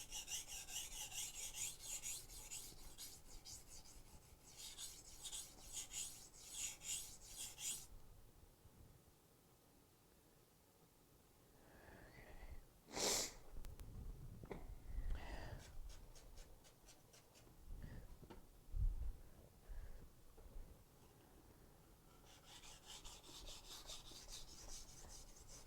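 A hand file rasps against a tool edge while it is sharpened in a workshop, with repeated scraping strokes in bursts, a quieter pause, then more strokes and a few knocks.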